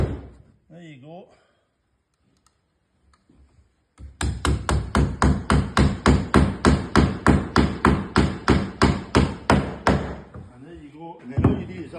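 A hammer drives nails into a picket fence section, striking in a fast, regular run of about twenty loud, close blows after a brief stretch of talk and quiet; someone speaks before and after the hammering.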